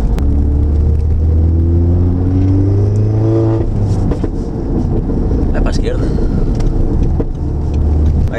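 An Audi TT accelerates in third gear, its engine note climbing steadily inside the cabin before easing off into a rumbling drone with wind noise. Voices talk over the engine.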